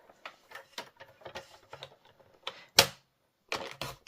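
A paper trimmer used on card stock for a papercraft texture project: scattered light ticks and taps, then one sharp loud slicing swipe, followed by a few more clicks, close up in a quiet room.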